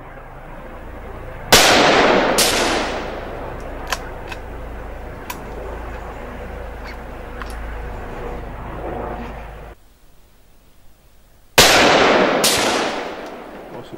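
Rifle shots fired with copper alternative ammunition outdoors: two sharp, loud cracks close together near the start, then scattered faint ticks, and another pair of loud shots near the end.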